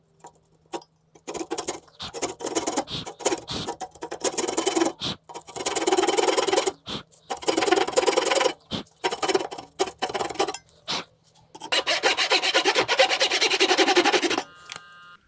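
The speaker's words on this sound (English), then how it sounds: "going to go slow on this because I don't want the saw to skip over and mar this piece at all" Hand saw cutting a wooden tenon for a mortise and tenon joint, slow rasping back-and-forth strokes in repeated bursts with short pauses, close and fairly quiet.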